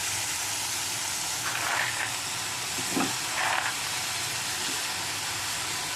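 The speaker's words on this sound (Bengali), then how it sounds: "হালকা ভাজা ভাজা হবে। দেখুন ভাজা ভাজা মতন হয়ে গেছে। এর মধ্যে আমি আলুগুলো দিয়ে দেবো।" A steady, soft sizzle of frying fills the clip, with a few brief scrapes and stirring noises rising over the constant hiss.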